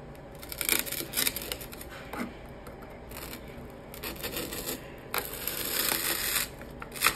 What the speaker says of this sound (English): I'm using a knife.